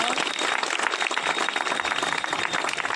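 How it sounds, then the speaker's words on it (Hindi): An audience at a martial arts competition's trophy presentation claps in a dense, sustained burst of applause that fills the whole moment at even loudness. "पुनः ताली बजाइए एक बार।"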